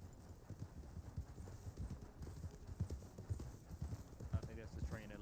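Horse hooves clip-clop in a steady, even rhythm in a western video game, fairly quiet and continuous beneath a player talking over it.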